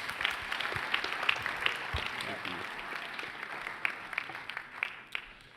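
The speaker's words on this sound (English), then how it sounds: "Let's give our state auditor candidates a round of applause" A convention-hall audience applauds state auditor candidates at a youth mock government event, a steady spatter of clapping that fades out, with a brief spoken thanks over it.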